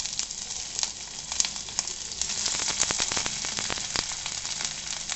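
Onions sizzle in hot oil for paneer jalfrezi, a loud, steady frying hiss with dense crackling pops that builds as the onion settles into the pan, no voices.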